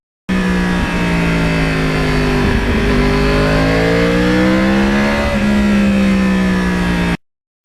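A Yamaha R1 crossplane four-cylinder sport motorcycle, one owner for 13 years, revs loudly and steadily up close, its uneven firing pulse rising and falling in pitch through a long sustained run before cutting off.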